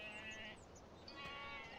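Sheep bleat faintly in a farming video game, a sustained, wavering call over a constant low background hum.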